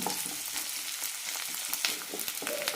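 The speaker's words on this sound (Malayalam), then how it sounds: "വെളുത്തുള്ളി വഴറ്റുന്നത് നല്ലെണ്ണയിൽ തന്നെയാണ് വഴറ്റിയെടുക്കാൻ ഏകദേശം അഞ്ച് മിനിറ്റോളം ആകും" Garlic sautés in sesame oil for a lemon pickle, giving a steady close sizzle with occasional crackles and faint stirring.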